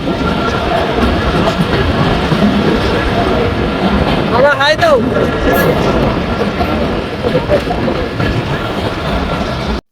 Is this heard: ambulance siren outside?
no